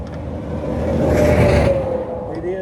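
Road traffic rushes along Highway 59 from a roadside spot, a loud steady rumble and whoosh of passing vehicles that swells in the middle and then eases slightly.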